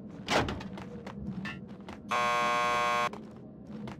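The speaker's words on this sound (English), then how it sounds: "Just press the buzzer by the door." A door buzzer in the Max Payne 2 video game sounds as one loud, steady electric buzz lasting about a second, with footsteps and background noise before and after.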